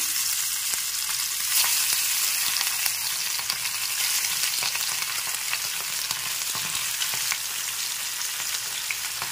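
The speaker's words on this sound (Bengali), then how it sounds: "এখনই মাছগুলো দিয়ে দিচ্ছি ভেজে নেওয়ার জন্য" Khoira fish frying in very hot oil in a pan, a loud, continuous bright sizzle and crackle that holds steady throughout, close up, with no talking.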